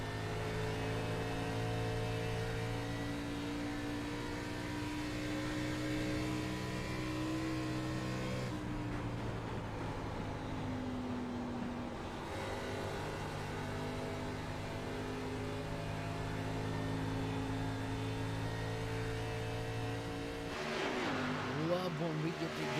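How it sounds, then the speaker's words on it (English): Race car engines on board at Homestead in the iRacing video game, a steady loud drone of engine harmonics that shifts pitch as the car runs, with a brief dip mid-clip and a rising rev near the end. "Just a roar of these drivers' engines are second to none."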